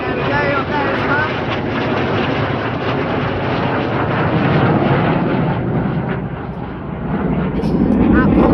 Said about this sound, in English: Well, 2 F-35s are flying overhead.